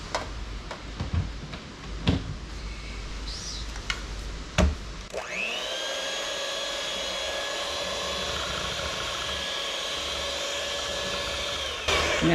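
A few clicks and knocks, then an electric hand mixer fitted with both beaters starts and whirs steadily at a constant high pitch for several seconds.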